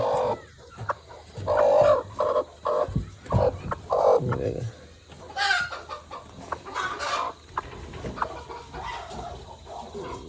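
Chickens on a farm cluck in repeated short bursts, fairly close and moderately loud, with no talking over them.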